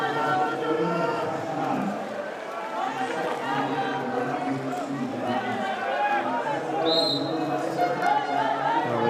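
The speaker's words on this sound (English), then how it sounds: "the crowd just a little bit quieter for the moment" The arena crowd murmurs steadily at a women's water polo match between Italy and Hungary in Budapest. The chatter is diffuse and continuous, with nearby voices mixed into it.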